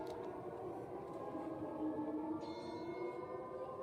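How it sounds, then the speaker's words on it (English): A faint, distant air raid siren wails steadily, its sustained tones drifting under a low background rumble. "these air raid sirens are kind of like ambience, like good ambience, honestly"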